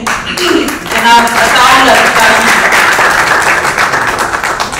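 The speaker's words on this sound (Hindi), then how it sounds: "सबकी भरपूर तालियों में जनाब" An audience at a book launch ceremony breaks into loud, full applause that swells and carries on steadily, with a voice audible near the start.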